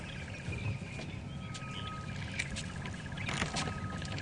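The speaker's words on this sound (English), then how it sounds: "You can hear all the bird sounds." Several birds chirp and call across the African bush during an early morning game drive, faint high tweets and short calls scattered over a steady low rumble of background noise.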